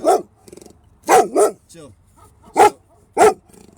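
A rescued puppy barks in sharp, loud bursts, several spaced yaps and barks close to the mic, while a person briefly speaks in between.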